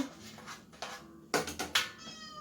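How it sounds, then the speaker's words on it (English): A cat meows several times in quick succession, fairly close, the cries rising toward the end over a quiet room. "I don't know if you can hear my cat in the background."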